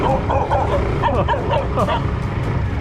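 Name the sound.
dog barking at night on a rural Vietnam road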